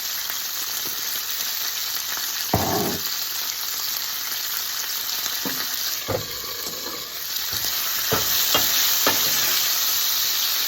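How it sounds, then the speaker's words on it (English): Peppers with red pepper flakes sizzle steadily in a frying pan for a Sicilian pepperonata, with several scraping stirs breaking through the constant hiss, loud and close, no voices. "And stir and cook it until they're nice and a little brown."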